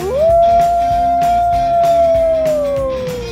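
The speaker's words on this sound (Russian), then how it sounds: "Волк." A recorded wolf howl from an Umka HX0251-R76 educational toy: one long, loud, sustained howl gliding slightly up then slowly down, with no speech over it.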